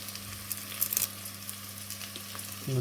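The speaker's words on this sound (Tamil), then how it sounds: "இப்போ இதுக்குள்ளே நான் போட போகிறேன் கொஞ்சம் பச்சை மிளகாய் போட போகிறேன்" Green chillies frying in a pan for a deer curry, with a soft continuous sizzle, a few brief clinks and stirring scrapes, and a louder hiss at the end.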